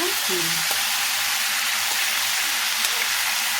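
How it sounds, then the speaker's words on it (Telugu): Nalleru (adamant creeper) chutney ingredients fry in a covered pan, giving a steady, close sizzle throughout with a few soft clinks and stirring sounds. A voice speaks faintly. "ఇది పచ్చివాసన పోయేంత వరకు మగ్గించుకోండి మూత పెట్టి"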